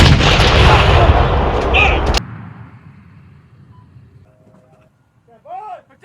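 M777 155mm howitzer firing a single round at close range, an enormous blast whose rumble rolls and decays over about two seconds, then cuts to near quiet with distant faint sounds and a brief shout from a crew member.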